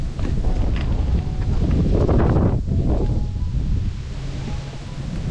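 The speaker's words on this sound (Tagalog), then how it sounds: "sobrang lakas ng hangin. Akala mo may bagyo" A hard, steady gale roars across the summit of Seven Star Mountain in Yangmingshan, Taipei, pounding the microphone with loud, rumbling buffeting that eases slightly toward the end, with no voices.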